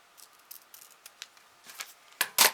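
Scissors snip ribbon being cut for a decorative bow, with several quiet clicks of the blades and two louder, close cuts at the end, with no voices.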